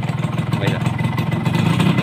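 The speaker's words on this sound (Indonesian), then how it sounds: "nah ini dari segi suara mesin tetap halus ya." Suzuki A100 two-stroke motorcycle engine runs smoothly nearby, a steady low burbling hum with a faint even pulse, while someone talks over it.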